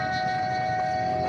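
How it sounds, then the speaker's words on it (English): A train on a rural Rocky Mountain railroad sounds a sustained horn with a steady rumble beneath it, heard at moderate distance with no talk. "The train should be here soon."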